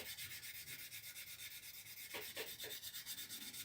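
Fine sandpaper rubbing over a Mitsubishi Zero scale model, a steady soft scratchy hiss with repeated back-and-forth strokes, close and fairly quiet, growing a little coarser near the end.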